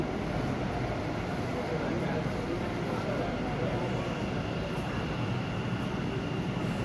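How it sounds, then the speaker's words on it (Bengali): A steady low rumble of a metro train rolling into an underground station on India's first underwater metro line, dense and continuous throughout with no distinct breaks, fairly close. "এই যে ট্রেন আসছে"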